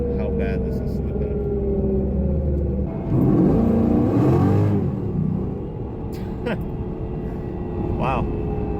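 An LS1 4th-gen Camaro V8 revs hard at wide open throttle with its transmission slipping, a loud steady engine drone that surges and climbs sharply midway, with a person talking over it throughout.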